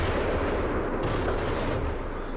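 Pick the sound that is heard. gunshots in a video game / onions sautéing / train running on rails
gunshots in a video game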